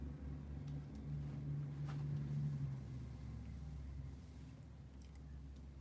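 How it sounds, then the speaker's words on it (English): Construction trucks rumble as they approach around a corner, a steady low engine drone with a tonal hum that swells slightly and then holds, moderately distant, with no talking. "But the trucks are coming around the corner."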